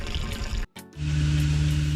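Water rushing through the plumbing lines of a Salem Cruise Lite 171 RBXL RV camper during de-winterizing, a steady loud flow that briefly cuts out, then resumes with a low hum.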